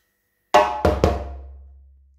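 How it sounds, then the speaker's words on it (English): Three sharp hand strikes on a djembe ring out close and loud after a moment of silence: a crisp slap followed quickly by two deep, booming bass strokes that decay slowly. "And after that, we will do one slap"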